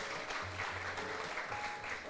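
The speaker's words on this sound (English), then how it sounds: "Give them a round of applause, yes." An audience at the OECS Super Regional Challenge closing ceremony claps steadily in a sustained burst of applause, dense and even throughout.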